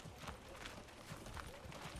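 Hooves of oxen and cattle on a busy medieval village road in the city-building game Manor Lords, a soft irregular clip-clop of many steps under a faint background bed.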